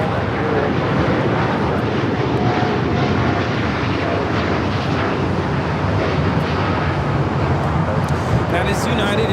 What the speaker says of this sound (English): That is United Airlines 198 taking off to Shanghai on the 787-9 Dreamliner.